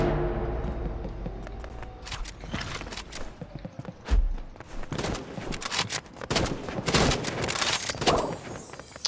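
Rapid sniper gunshots from Roblox gameplay, fired as two no-scope shots in a row, crack out amid busy game noise and other gunfire in a dense, loud mix.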